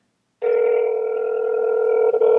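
A telephone ringback tone sounds steadily and fairly loudly after a brief silence, a sustained electronic tone that continues alone with no talk over it.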